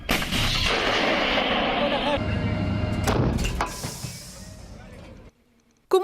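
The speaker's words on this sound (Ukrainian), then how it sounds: "українська захисниця, самохідна артустановка 2С1 Гвоздика. Вогонь!" A 2S1 Gvozdika self-propelled howitzer fires a single heavy, booming shot, loud and close, followed by a long rumbling roar that slowly fades into quiet.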